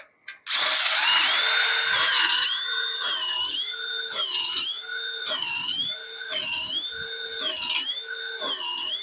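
Power drill boring a long run of 5/16-inch holes through a metal mailbox face plate, the bit whining in steady repeated bursts that rise and fall with each hole, close and fairly loud, no talking.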